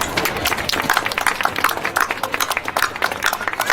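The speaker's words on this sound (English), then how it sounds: "Give yourselves a round of applause." Steady round of applause from a gathered group at a sand sculpture event, dense overlapping hand claps at close to mid range, holding an even level throughout with faint voices mixed in.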